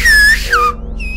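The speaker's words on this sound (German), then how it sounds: "ich kann pfeifen" A person whistles a few short pitched notes, two rising-and-falling tones followed by a brief higher note, heard near and loud over a low steady background hum.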